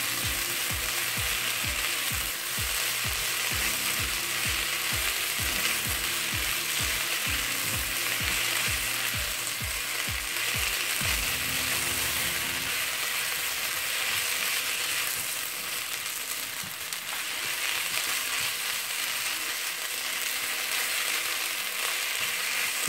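Leeks and onions browning in about a tablespoon of olive oil give a constant bright sizzling hiss. For the first half, a rhythmic low mechanical ticking repeats beneath it, then the frying continues alone.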